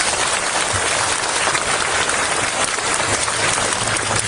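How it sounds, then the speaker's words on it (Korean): Sustained applause from an audience at a formal signing ceremony for a school-support agreement in an aircraft noise area, a dense, steady wash of clapping filling the whole span with no talk. "다시 한번 뜨거운 박수"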